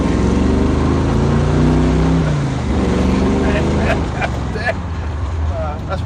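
A 1968 Chevy Camaro with a 383 V8, aluminum heads and a flat-top motor rumbles steadily up close, its engine note shifting midway, while people talk over it.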